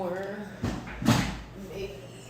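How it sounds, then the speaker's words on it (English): A room door is pulled shut with a soft thump partway through, fairly quiet, with a person speaking softly before and after. "Let me close this door."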